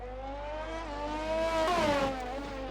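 Formula 1 race car engine at the Hungary round of a racing video game, a steady high-pitched whine that rises and dips as the car accelerates and shifts, alone over a low hum.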